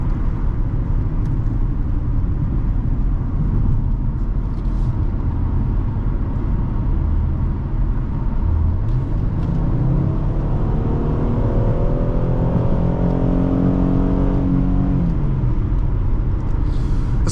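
A 2014 Ford Taurus Police Interceptor with the 3.7L engine accelerates hard, a loud steady engine roar rising in pitch through several gear shifts.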